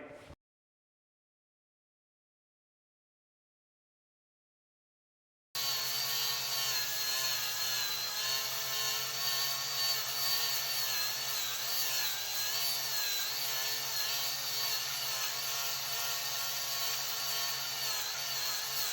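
A power sander with 40-grit paper grinds a concrete garage floor to smooth filled cracks before epoxy coating, a loud steady abrasive whir that starts after several seconds of silence and runs on continuously.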